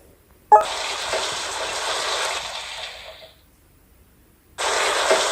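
Shower water running in the PK XD video game, a steady gushing spray that starts abruptly, runs about three seconds, stops, then resumes at the end; no voices.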